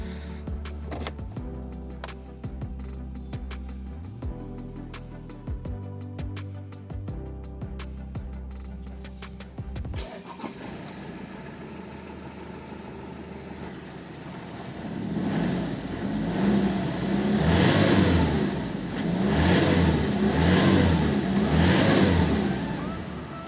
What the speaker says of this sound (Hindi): तो चलिए गाइस व्हीकल को करते हैं ऑन और देखते हैं कैसा इसका स्टार्टिंग साउंड है